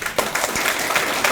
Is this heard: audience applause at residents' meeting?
yes